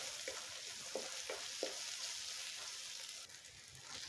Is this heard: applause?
no